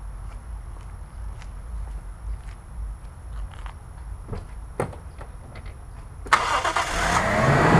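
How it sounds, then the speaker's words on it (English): A Toyota Crown Royal Saloon GS131 Jubilee Edition with a supercharged 1GGZE engine starts, a few faint clicks and shuffles, then the engine catches with a sudden rise and settles into a steady idle close by. "now I'm going to go ahead and crank this car up."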